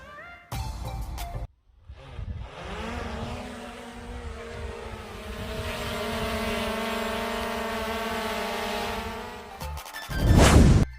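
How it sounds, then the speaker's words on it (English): A drone sound effect: a steady, buzzing motor whine with layered harmonics holds for about eight seconds, set between brief, separate sounds at the start and a noisy burst near the end. "D for drone."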